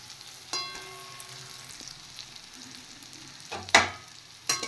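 Fried eggs and fried onions sizzle faintly in a pan, punctuated by a ringing metallic clink and a few sharp utensil scrapes and knocks.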